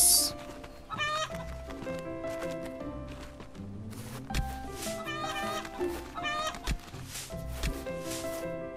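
Chickens cluck in short, scattered bursts over steady game music in the video game Witch of Fern Island.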